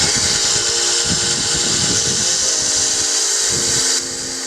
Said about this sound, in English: we got a 120 grip fresh belt. And we're just gonna roughen the shape